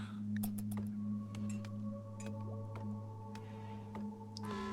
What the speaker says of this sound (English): The fallen monolith has begun to stir, slowly begins to twist and rearrange itself, morphing into something new.